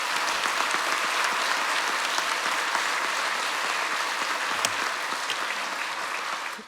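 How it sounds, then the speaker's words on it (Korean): A church congregation at a 50th-anniversary thanksgiving service in Seoul claps together in steady, full applause that carries on evenly before tapering off at the very end. "우리 멀리서 박수 한번 하겠습니다"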